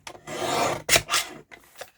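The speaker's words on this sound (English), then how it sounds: "I'm going to trim, this is half of a card base, and we are going to cut this to 4 1/8 by 5 3/8." A paper trimmer cuts a cardstock card base down to 4 1/8 by 5 3/8 inches. A few short, close rasping slides of the blade through the paper are separated by brief pauses, with no talking.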